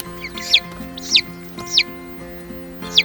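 A chicken gives four short, high chirpy clucks, evenly spaced, close by over a steady low hum.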